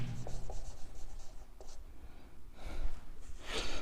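Marker or chalk strokes on a classroom board during an English grammar lesson, several short scratchy bursts of writing in a quiet room, close and fairly soft, with no talk over them.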